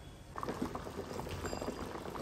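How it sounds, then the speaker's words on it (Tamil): A pot of spicy Tamil kara kuzhambu curry bubbling and simmering steadily, with soft popping and gurgling close up, continuous and fairly quiet. "இது நல்லா இன்னொரு 10 நிமிஷம் கொதிக்க விடலாம்"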